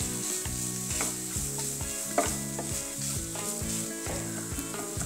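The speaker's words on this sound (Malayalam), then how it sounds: "എന്നിട്ട് നല്ലപോലെ മിക്സ് ചെയ്തെടുക്കാം." Chili powder and garam masala being stirred into an already-cooked chicken mixture in a hot pan, with a loud continuous sizzle and repeated rhythmic scraping strokes of a spoon, close up and without speech.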